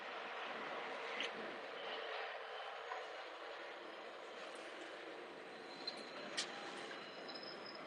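Steady, noisy ambience on a New York City subway platform at Union Square–14th Street on a freezing day, with a constant rumbling hiss and a few faint, brief metallic clicks scattered throughout.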